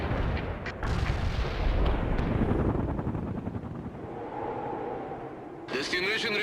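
A heavy artillery strike in the video game World in Conflict pounds out a dense, rolling barrage of booming blasts that fade into a low rumble, followed by a sharp crack, with radio-style voices under the roar.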